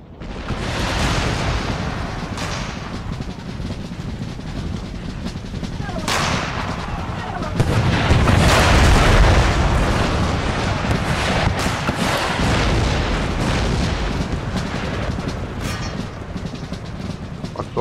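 Loud booming cannon blasts and rumbling explosions fire repeatedly over a sustained roar of battle, dense and continuous, from the video game Empire: Total War.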